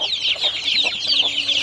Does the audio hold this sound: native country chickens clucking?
yes